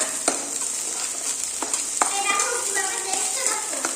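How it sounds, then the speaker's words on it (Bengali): Potatoes frying in a pan before chickpeas go in make a bright, loud, continuous sizzle, with sharp stirring scrapes and clicks close by. "এবার আলুটা একটু লাল লাল হোক তারপরে ছোলাটা দিয়ে দেবো"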